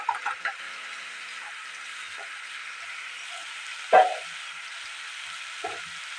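Food fries in a pan before vegetables are added, a steady soft sizzling hiss throughout with a few light clinks and one sharper knock of a utensil against the pan.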